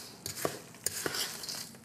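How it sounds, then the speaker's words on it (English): A spoon stirring potato salad with dill pickles in a bowl, quiet scraping strokes with a few light clinks, fairly close and soft. "Stir in there good."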